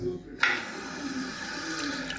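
A tap in Pula switches on suddenly with a sharp gush, then water pours in a steady hissing stream into a basin, close and continuous.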